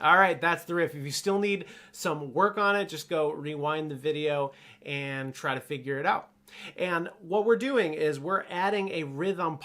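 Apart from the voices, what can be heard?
No distinct noise like a dog, phone or traffic.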